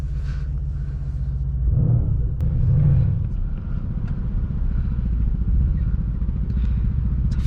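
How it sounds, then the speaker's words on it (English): A Yamaha Raptor 700R ATV engine rumbles with a steady low drone, swelling louder twice early on, heard from inside a 2017 AMG C63s on the road alongside the car's own engine noise. "It's a fast Raptor right there."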